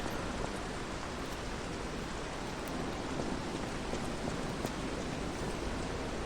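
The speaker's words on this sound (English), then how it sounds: "Now it's raining." Steady, even rain on a rainy night at Hobbler's Bridge in the video game Lies of P, a soft continuous hiss of falling drops heard alone with no talk.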